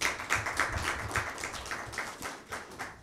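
An audience claps at a Christmas mushaira poetry gathering: dense, steady clapping with a regular beat, fairly close and continuous for about three seconds.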